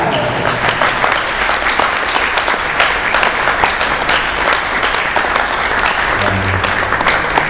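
Audience applause at an outdoor accordion recital in August, a steady, dense clapping from a sizable crowd that carries evenly for the full length without letting up.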